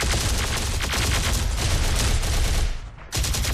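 Heavy sustained gunfire from soldiers in Terminator: Dark Fate - Defiance, a loud continuous automatic fusillade that briefly drops out near the end before resuming at full force.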